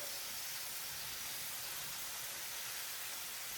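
Thin burger patties sizzle in a pan, a steady, even hiss that stays constant and fairly faint throughout, with no talking.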